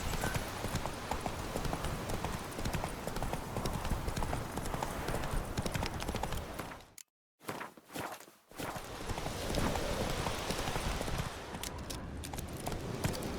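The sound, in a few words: horse hooves galloping in video game The Witcher 3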